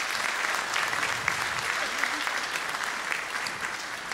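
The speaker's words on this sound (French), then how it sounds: "on pourrait peut-être en profiter pour applaudir Gilles Lifshitz pour ce présent." Audience applause at the 95th FFAP congress at the Cité Internationale Universitaire de Paris, a dense, even clapping that carries steadily from start to finish.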